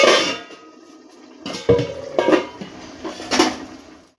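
A metal lid set onto a cooking pot of spicy Bengali chicken curry masala, a few clanks and clatters close by after a short pause, with no talking.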